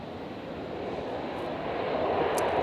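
Virgin flight 709 in from Hobart touches down on runway 01 right at Brisbane International Airport on a stormy night, a steady, loud engine roar that builds slightly over a few seconds.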